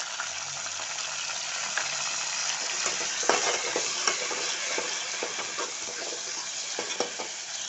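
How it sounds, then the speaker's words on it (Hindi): Steady, dense sizzling of garlic ginger paste frying in hot oil with onions, with occasional stirring scrapes and a few louder pops, continuous throughout. "लहसुन अदरक भुन गया।"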